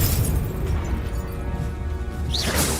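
A Confringo fire spell in Hogwarts Legacy bursts in a loud, dense blast that rumbles on steadily, then a whooshing swell closes it out near the end.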